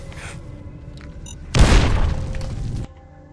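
A frag mine explodes in Fallout: New Vegas inside the lower levels of Vault 19, a single loud close boom with a shattering burst that rings for about a second over quiet game ambience.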